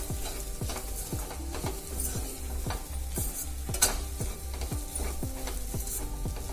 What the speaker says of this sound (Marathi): आता हे मिक्स करूया.